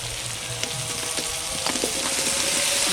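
Potatoes for vegetarian aloo dum fry in a spice masala, giving a loud continuous close sizzle with occasional stirring scrapes and no talking.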